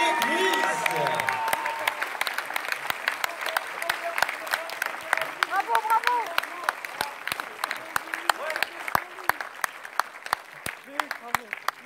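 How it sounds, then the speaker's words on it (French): A cinema audience at an avant-première of La Ch'tite Famille with its star, in a Cinéville at Hénin-Beaumont, claps loudly; the crowd's clapping thins into scattered, sharp individual claps, with a few voices calling out beneath. "Merci à tous les gars pour les applaudissements bien forts, s'il vous plaît."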